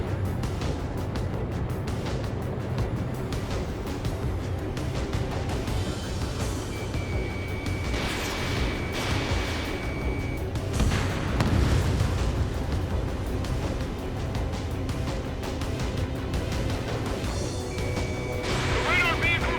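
Gunfire and explosions strike radar vehicles in the Ace Combat 7: Skies Unknown video game, a dense continuous barrage of booms and crashes with engine roar, under radio chatter voices.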